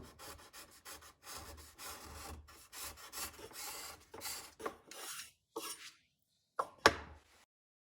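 A Shaper Origin handheld router cuts a wooden logo inlay, taking fine passes with a series of short, close rasping and whirring bursts separated by brief pauses, ending in a sharp final cut and then silence.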